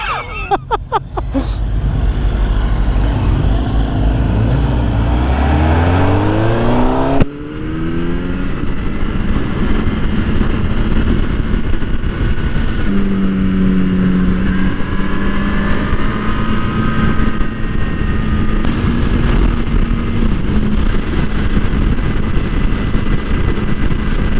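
Kawasaki ZX-10R sport bike on a ride, its engine revving loud and close with rising pitch sweeps through gear changes, then settling into a steady drone under rushing wind noise.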